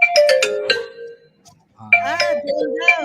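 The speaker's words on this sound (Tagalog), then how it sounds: "Cellphone tumutunog po." A cellphone rings with a bright melodic ringtone, a short burst of tones, a brief pause, then the tune repeats, fairly close and clear.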